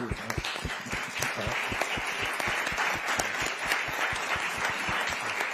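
Audience applause following an onstage conversation at the Alhambra, a dense, steady wash of many hands clapping at fairly even loudness for the whole span, with no talk over it.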